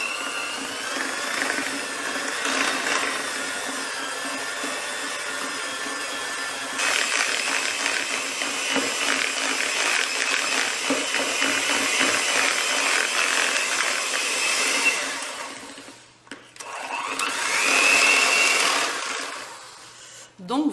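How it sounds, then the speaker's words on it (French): An electric hand mixer whirring steadily as it beats butter with icing sugar, a continuous loud motor drone with rattling beaters in the bowl, close, pitch shifting as speed changes, with a person speaking over it at times. "un petit batteur à la main et hop, 4 à 5 minutes"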